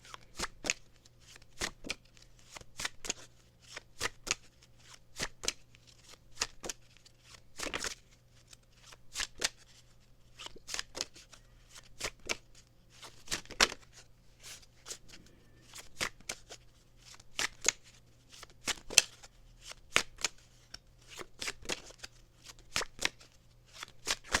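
Tarot cards shuffled by hand up close, a long run of crisp riffling bursts and soft slaps in an uneven rhythm over a quiet low hum, with no talking.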